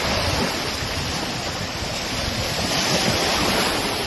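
Lake waves roll steadily onto the shore, a constant broad wash of surf with wind buffeting the microphone and no voices.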